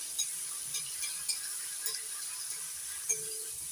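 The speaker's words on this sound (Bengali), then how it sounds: "চিংড়ি মাছগুলো নাড়াচাড়া করে ভেজে নিচ্ছি।" Shrimp coated in salt and turmeric frying in hot oil, a constant faint sizzle broken by soft periodic clinks of a utensil stirring the pan.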